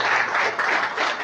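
A church congregation applauds, a brief burst of dense clapping from many hands at close range.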